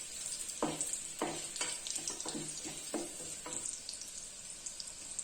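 Ginger, garlic, cumin and black pepper fry in oil over a low flame with a faint steady sizzle, broken by several short scraping stirs in the first half and no talking.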